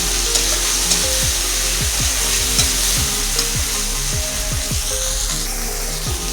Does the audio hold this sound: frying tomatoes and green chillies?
yes